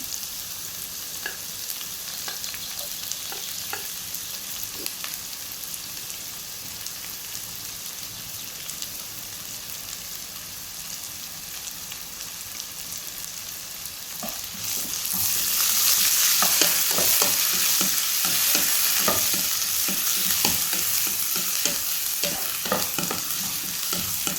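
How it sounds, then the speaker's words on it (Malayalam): Chopped onion frying in hot oil in a pan for fish curry, with a steady sizzle and repeated scraping stirs that grow louder and more vigorous about halfway through. "ഇനി ഒരു മീഡിയം വലിപ്പത്തിലുള്ള ഉള്ളി ചെറിയ ചെറിയ പീസാക്കിയാണ് കേട്ടോ ഞാൻ ഇതിലേക്ക് ആഡാക്കുന്നത്"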